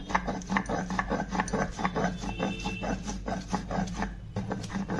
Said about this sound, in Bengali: এই যে এবার আদা আর লঙ্কাটা আমি বেটে নেব।